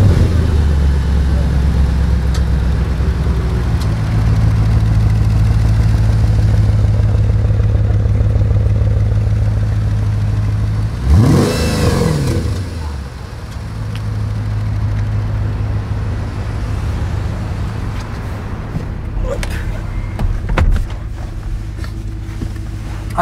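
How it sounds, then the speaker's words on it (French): An Audi RS4 with a V8 engine rumbles at idle close by, then a sharp rising rev sweeps through as it pulls away, before the engine settles to a lower, uneven burble with some clattering. "J'aime bien la sonorité du V8"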